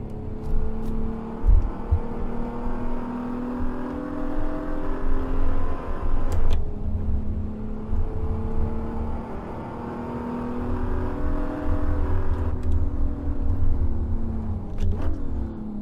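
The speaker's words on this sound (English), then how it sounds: "Downshifting sounds nice." A BMW Z4 in the Assetto Corsa racing game drones steadily with a rising engine note, dropping sharply at two downshifts with crisp blips before climbing again, loud and continuous with no talk.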